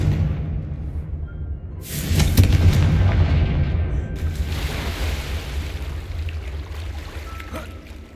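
A fire-spell explosion cast in Hogwarts Legacy bursts out as a loud booming blast with a heavy low rumble, then a long roaring tail that slowly fades over a constant background bed.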